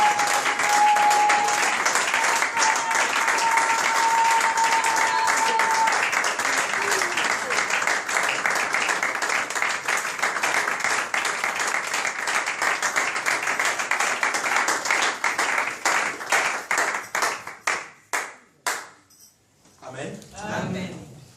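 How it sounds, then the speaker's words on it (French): Church congregation applauding for the Lord: sustained loud clapping from a crowd that holds steady, then thins into scattered claps and fades out, with voices rising briefly at the end. "Acclamons pour le Seigneur."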